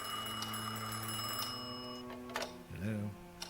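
Telephone ringing in a horror game: a faint, sustained ringing tone with clock ticking in the background, and a voice speaking over it near the end.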